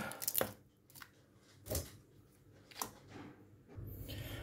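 Knife chopping onion, ginger and garlic on a board, a few sharp separate cuts spaced apart with quiet kitchen room noise between them.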